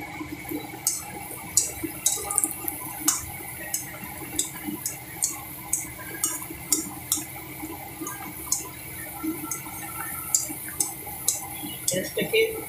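Tibetan bread fries in hot oil over a low gas flame, a steady soft sizzle broken by frequent small pops and crackles.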